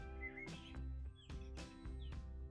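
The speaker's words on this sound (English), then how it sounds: "These birds are chirping, they're doing me head in." Small birds chirp in short, high tweets over a constant low hum from an indoor live stream, the calls scattered across a few seconds.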